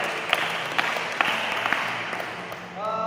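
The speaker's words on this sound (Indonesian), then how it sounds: "berikan tepuk tangan untuk kelompok 1 ini" Students in a physical education class applaud a presenting group, a moderate, fairly even patter of clapping with a few sharper claps, and a voice faintly heard near the end.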